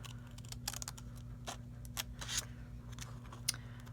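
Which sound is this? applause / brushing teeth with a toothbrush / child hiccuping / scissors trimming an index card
scissors trimming an index card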